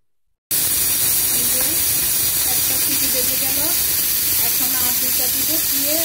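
A pressure cooker hisses steadily with escaping steam while cooking white kabsa, a loud continuous hiss starting abruptly and lasting throughout, with faint warbling tones underneath.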